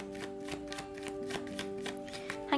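Tarot cards shuffled by hand in steady riffling bursts, close and fairly quiet, with a faint background hum and no talking.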